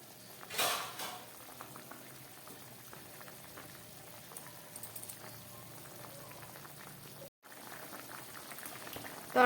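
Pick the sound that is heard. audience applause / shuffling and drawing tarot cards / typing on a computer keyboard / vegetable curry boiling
vegetable curry boiling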